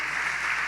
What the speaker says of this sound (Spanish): dale fuerte el aplauso a Dios por la vida